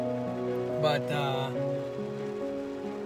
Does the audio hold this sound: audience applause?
no